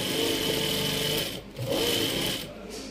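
A sewing machine stitching a summer dress, running in a steady loud whir with two brief pauses where it slows before starting up again, with no talk over it.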